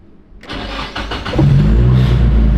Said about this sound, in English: Should I start it to see if it makes the VCT rattle?